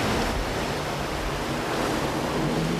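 Ocean waves break on the rocky shore of Chujado island under a storm warning, giving a continuous close wash of surf with wind noise and no voices.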